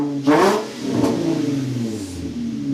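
A repaired Infiniti car's engine starts and revs up close by, then settles into a steady idle with a slight rise in pitch toward the end.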